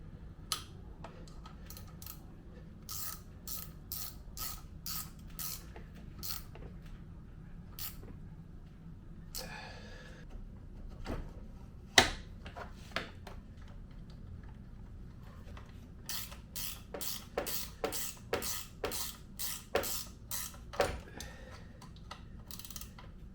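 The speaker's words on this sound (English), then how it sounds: "I'm going to tighten up the top first, and then tighten up this pinch." A ratchet tightens the top and pinch bolts on the front forks of a Honda CRF/XR70, giving quiet bursts of rapid clicking, repeated in short runs against a faint background.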